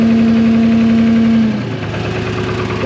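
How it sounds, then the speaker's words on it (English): A New Holland L783 tractor's diesel engine idles close by in a loud, steady, knocking rumble, with a whining tone that fades out partway through. "We're just gonna let this idle for a bit now because it shouldn't die on us."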